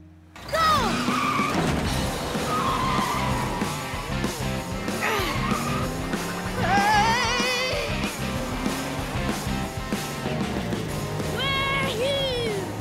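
Cartoon toy trucks race loudly and continuously, engines revving with squealing tires and skids, mixed with music and excited character voices shouting throughout.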